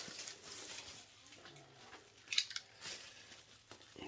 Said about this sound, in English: Cut this bubble wrap just a little bit.